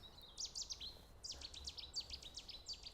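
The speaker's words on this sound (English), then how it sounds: "Setti's warbler there, I think anyway." A Cetti's warbler sings quick bursts of sharp, high chirping notes, two loud phrases separated by a brief pause, fairly close and otherwise quiet.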